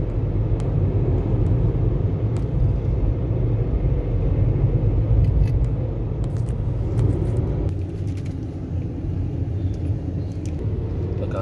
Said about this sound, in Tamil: எதிர்முனையில் டிராஃபிக் கொஞ்சம் ஹெவியாகவே இருக்குது.